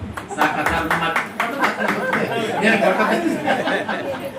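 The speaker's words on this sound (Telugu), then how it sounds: "అందరూ ఆనందంతో క్లాప్స్ కొట్టారు" Applause and cheerful chatter from guests at a Sita-Rama kalyanam wedding festival in a Ramakrishna ashram, dense continuous clapping close by with voices and light laughter mixed through.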